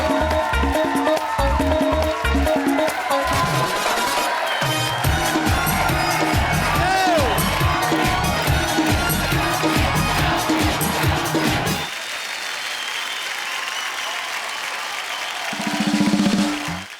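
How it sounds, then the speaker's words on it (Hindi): A television comedy show's studio audience cheers and applauds the Khan family, with loud crowd noise and music for about twelve seconds before it drops to a quieter hum and a brief swell near the end. "तो एक बार जोरदार तालियां खान फैमिली के लिए।"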